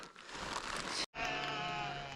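Goats bleating in a dense forest while being herded by shepherds, a near, wavering bleat that is cut off briefly and then resumes, heard alone without talk.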